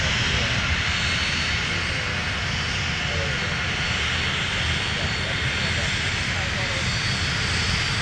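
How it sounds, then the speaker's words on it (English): An aircraft takes off from runway 17 at Minneapolis–Saint Paul airport, a loud, continuous broadband engine roar that holds steady throughout and sounds close. "That was 4010 flight, runway heading runway 17, good takeoff"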